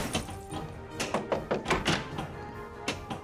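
A pinball ball launched and then punched for a skill shot on a Pinball FX 3 American Dad table, a series of dull thunks and taps over busy electronic game sounds.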